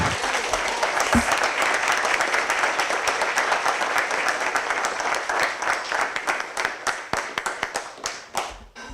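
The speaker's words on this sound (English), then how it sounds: "Can we have one more round of applause for all of the presenters today?" Sustained applause from an audience for presenters at an honors reading event, dense clapping that gradually thins into scattered individual claps toward the end.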